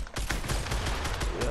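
Fortnite gunfire in a duo battle royale match, a quick cluster of sharp shots fired close by in rapid succession.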